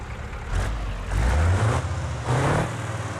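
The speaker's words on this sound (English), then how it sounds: "Damn, that's a big V8." A big V8 truck engine in the BeamNG.drive driving game revs in two loud bursts, deep rumbling swells rising and falling over a low idle, with no talking.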